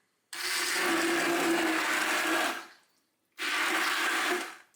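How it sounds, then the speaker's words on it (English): Kitchen blender pureeing cooked tomato sauce with bay leaves and onions, a loud whirring motor burst of about two seconds, a short pause, then a second burst, close up with no talk. "So I'm gonna blend it and taste it again."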